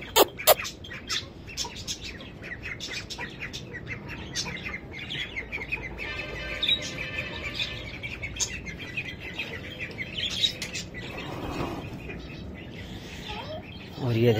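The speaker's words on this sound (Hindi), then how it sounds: "हम ले आए हैं अपना नया लक्का कबूतर अपनी वाइट फीमेल के लिए।" Lakka fantail pigeons coo and flutter nearby among chirps and clucks from other birds, with a person speaking over the birdsound at times.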